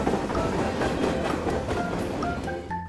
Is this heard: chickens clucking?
no